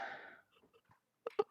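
A single sneeze bursts out loud and close, trailing off over about half a second, then after a pause someone speaks a couple of short words, all during a live-streamed tabletop roleplaying game.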